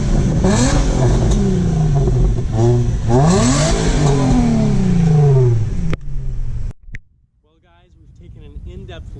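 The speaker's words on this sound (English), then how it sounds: "this is a stock exhaust, but you have to hear these juicy revs" A 2003 Infiniti G35 Coupe with a stock exhaust revs hard several times, its engine tone rising and falling in loud close sweeps before cutting off abruptly, followed by quieter sounds.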